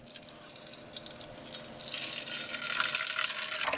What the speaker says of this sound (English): we'll load the tin up with some boiling water